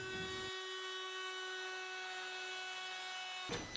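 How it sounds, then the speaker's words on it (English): A router fitted with a flush trim bit trims the edges of wooden boards, a steady, high, tonal whine that holds evenly and then shifts abruptly at the end. "To line up all the edges, I used a flush trim bit on my router."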